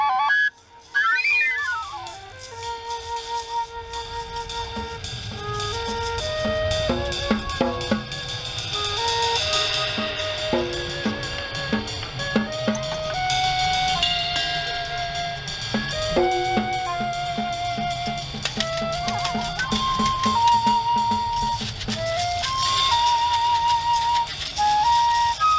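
A penny whistle plays a bright, breathy melody of short stepping notes, steady and close, with some trills and sustained tones.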